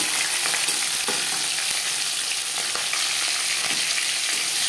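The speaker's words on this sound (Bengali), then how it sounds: "সবার প্রথমে আমি মাছের মাথা ভেজে নেব।" A hilsa fish head fries in hot mustard oil, giving a steady, loud, close sizzle with crackling pops throughout and no talking.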